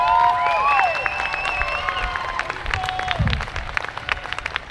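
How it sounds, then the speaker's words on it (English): Audience applause welcoming a musician to an outdoor bandstand concert at Iolani Palace, steady clapping with some crowd noise and scattered voices over the first seconds, tapering off toward the end. "please help me to give a big round of applause"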